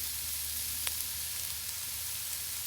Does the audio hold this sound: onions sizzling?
yes